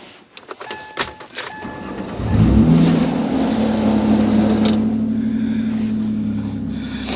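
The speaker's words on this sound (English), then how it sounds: "So we're going to start the car right now." Some clicks and jangles, then the engine of a car that has been in storage cranks and catches, settling into a steady, loud idle that continues to the end.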